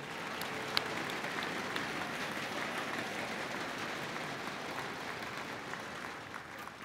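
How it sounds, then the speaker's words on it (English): Audience at a Richland College convocation applauds three honorees, a steady, even wash of clapping from a large room that holds throughout and fades slightly at the close. "Let's give one more round of applause to all 3."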